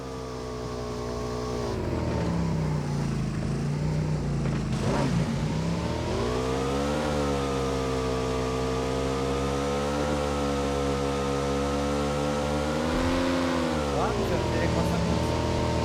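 Vehicle engine in PUBG Mobile, a steady revving drone that rises and falls as the car drives, loud and continuous, with game voice chat talking over it.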